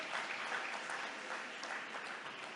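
A church congregation applauds during a preaching service, a steady patter of many hands clapping at a moderate distance, fairly soft and continuous with no voices over it.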